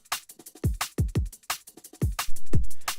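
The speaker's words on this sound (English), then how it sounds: "So the drums sound like this." A programmed drum beat built in Ableton plays alone, with punchy kicks and crisp snares and hats in a steady, lively groove, close and clear with no talking.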